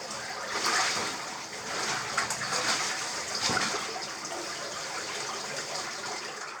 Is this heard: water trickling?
yes